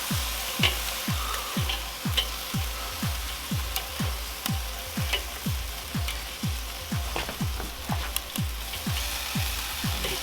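Korean-style short ribs sizzle loudly on a hot cooking surface right after being flipped, a close, steady crackle with regular rhythmic pops and hisses repeating throughout, with no voices.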